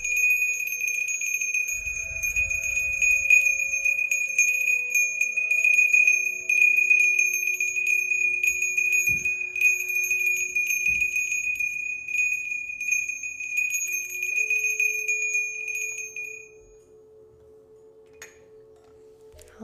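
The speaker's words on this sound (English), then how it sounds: "let's do a little bell for those of you who are hopping off" A small bell rings clear and sustained during a live healing-space session, its bright overtones hanging and slowly decaying over many seconds, with faint soft knocks underneath and no voices.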